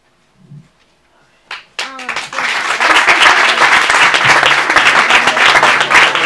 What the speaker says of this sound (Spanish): Ese aplauso para Bonito